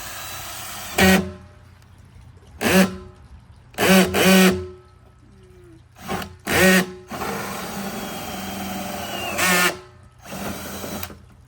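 A power drill whines in several short bursts while drilling a hole in a plastic 55-gallon barrel, then runs for a longer stretch and stops, with quiet pauses between bursts.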